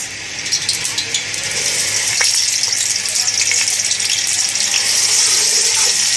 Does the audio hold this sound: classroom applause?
no